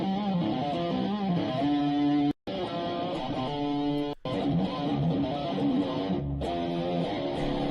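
A distorted electric guitar through an Orange amp plays crunchy, gritty chords and riffs, with a few brief dropouts where the sound cuts out completely.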